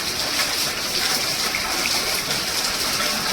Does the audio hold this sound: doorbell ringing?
no